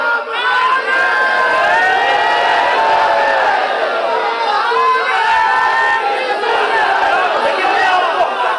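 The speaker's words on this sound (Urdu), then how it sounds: "ایک بولے گا اور آخری تک پورا مجمع جواب دے گا" A large gathering in Ramanagara, Bangalore responds together to a religious speaker, a loud dense crowd roar of shouted slogans sustained without a break, with voices overlapping throughout.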